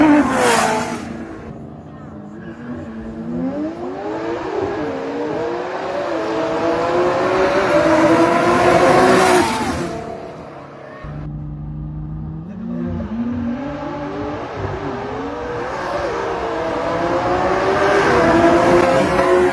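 A McLaren and a Nissan GT-R accelerate hard in a street race, engines loud and close, rising in pitch through gear shifts with a pause before a second pull, and one voice briefly heard over them.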